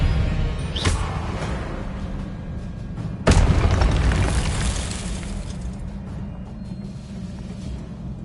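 Spell blasts in the Hogwarts Legacy video game, two sharp booming bursts with the louder second one at about three seconds, each trailing into a dense rumbling wash that stays loud and close throughout.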